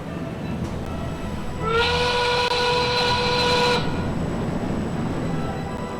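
Simulated launch of the Voyageur roller coaster train in NoLimits 2: a constant mechanical rumble swells as a bright, layered electric whine sweeps upward for about two seconds, then cuts off and leaves the steady background drone.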